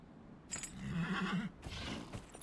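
A horse whinnies in Dragon Age: Inquisition, one clear, wavering neigh that rises and falls near the listener, with faint rustling or hoof-like movement before and after.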